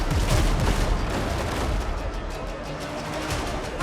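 Cannon fire from an enemy ship attacking the player during naval combat in the game Windrose, a dense, roaring wash of blasts and rumbling booms that starts heaviest and stays loud throughout.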